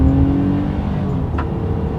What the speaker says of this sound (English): let's do the acceleration test here with the Pathfinder having full control